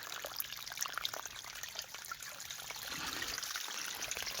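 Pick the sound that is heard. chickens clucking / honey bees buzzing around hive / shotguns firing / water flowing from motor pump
water flowing from motor pump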